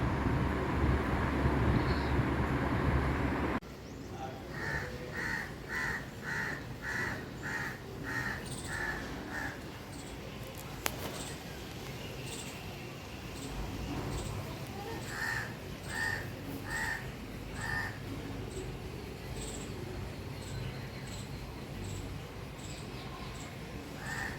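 Crows caw near a tree where a wild cat has climbed. The harsh calls come in repeated bursts of several caws at mid distance, with pauses between them, over a steady outdoor background.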